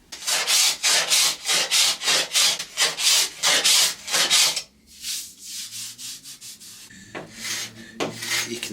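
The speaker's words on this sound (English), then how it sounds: "I just want to see how easy it is to scrape this finish off." Old shellac finish being scraped off an Art Deco wooden vanity, a rhythmic series of loud rasping strokes close by, then quieter, shorter scrapes with pauses.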